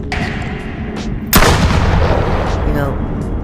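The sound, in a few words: gunshots from a VR gun video game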